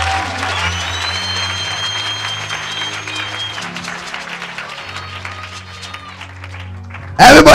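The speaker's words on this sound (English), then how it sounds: "Let's clap for Jesus here." Church congregation clapping and cheering for Jesus, sustained applause running beneath singing voices and sustained tones, then a loud sudden surge of noise right at the end.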